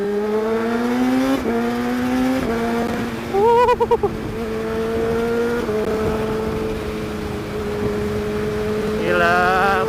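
A 2019 Kawasaki ZX636 motorcycle engine on a test ride holds a loud, steady drone with a few gear changes and a brief pulsing rev spike, then settles and climbs again toward the end.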